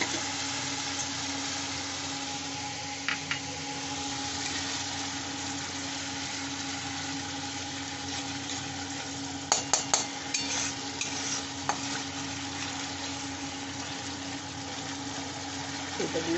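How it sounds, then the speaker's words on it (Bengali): Tomato sauce and masala, with a cashew and melon seed paste, are sautéed in a pan as a low, steady sizzle under a constant hum, with a few clinks of a spoon against the pan midway. "এখন আমি এই টমেটো সসটা দিয়ে দিচ্ছি কষার সময়তে"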